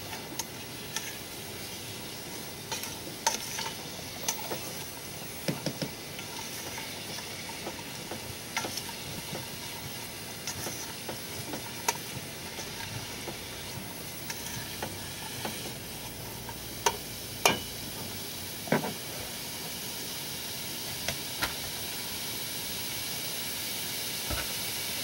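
Chili heats up in a pot with a soft, steady hiss and faint bubbling, dotted with scattered small ticks and pops over a long stretch, fairly quiet and free of talk.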